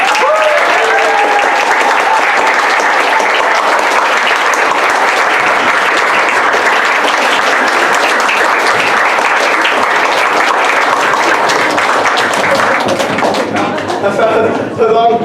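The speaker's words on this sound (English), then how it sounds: "can you put your hands together for the company players?" A theatre audience gives the company players a long, steady round of sustained clapping after a community production of a dinner-party play, with a few voices surfacing near the end.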